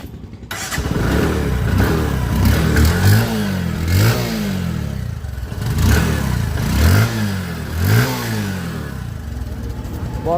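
A Bajaj Discover 125 motorcycle engine revs repeatedly in loud, close bursts, rising and falling roughly every two seconds over a steady idle.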